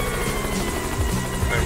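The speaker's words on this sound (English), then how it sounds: "you're gonna be too difficult to catch as the helicopter" A helicopter transformation in the Yooka-Laylee video game gives a steady whirring buzz, loud and continuous, with a person talking over it.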